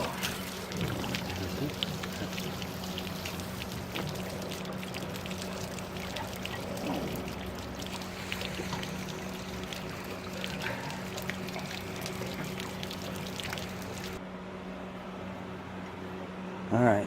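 Fresh water pouring steadily into an RV's fresh water tank through the fill inlet, a continuous rushing, gurgling flow heard close up for the whole stretch, with no talking.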